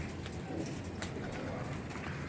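Domestic pigeons cooing in a cage as it is opened and carried indoors, a soft, continuous low murmur of coos lasting throughout at moderate loudness with no talk.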